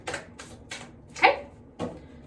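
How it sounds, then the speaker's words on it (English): Tarot cards being shuffled by hand on a table, a series of crisp riffling bursts, about five in quick succession with short pauses between, close and fairly quiet. "I'm going to do 2 more shuffles, and then I'm going to take what's out on the table."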